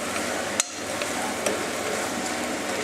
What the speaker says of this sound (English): Okay, so kind of stir it around, let it saute